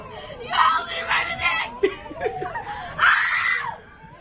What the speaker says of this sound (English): This is screaming.